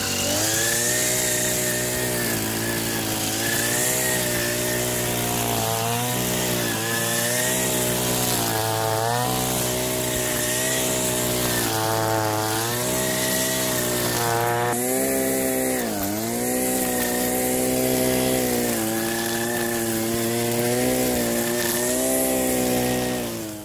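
A PATRIOT PT 443 The One petrol grass trimmer runs continuously at close range, its engine whine rising and falling in pitch as it revs while slicing through tall grass, with no talking.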